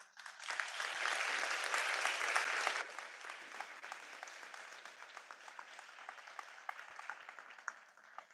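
A crowd at a spring commencement ceremony for a school of health sciences claps loudly for a few seconds, then the applause thins to a lighter, sustained patter of many hands that continues to the end.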